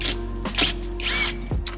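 Screws come out of a small guard on a 1997 Hyundai Coupe under a ratcheting tool, giving several short, close mechanical bursts of clicking and whirring with brief gaps between them.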